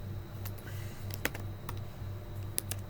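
Keys clatter on a computer keyboard in irregular bursts of sharp clicks, close and moderately loud, over a steady low hum, with no voices.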